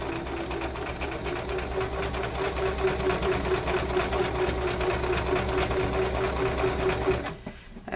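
A sewing machine runs continuously along a straight seam in tote bag fabric, a loud, even, rapid stitching drone that slows and stops near the end.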